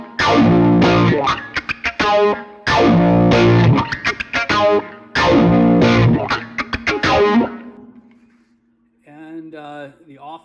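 Electric guitar through an Axe FX III envelope filter preset set for a U2 Mysterious Ways tone, three loud, rhythmic strummed bursts with a wah-like sweep, then a fading tail and a quieter short phrase.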